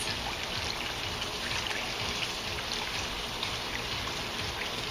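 Water sloshes and swishes continuously as arms push it side to side during an aqua aerobics workout in a pool, a steady, close, broadband splashing wash with no distinct pauses.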